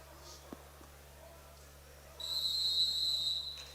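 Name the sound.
referee's whistle at a wrestling match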